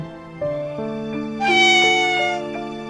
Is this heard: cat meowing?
yes